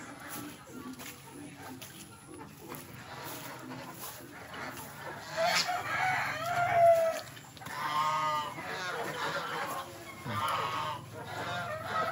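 Chickens cluck and squawk at close range on a farm as they are fed, with a rooster-like call rising midway, over a background of rustling activity and occasional voices.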